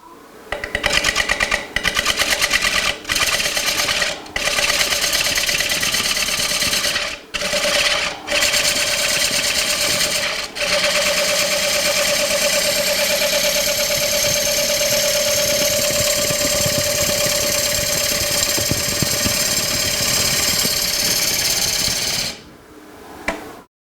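A wood lathe spins a bowl while a bevel-riding gouge cuts, producing a loud, steady whirring drone with brief interruptions and dips before the motor winds down near the end.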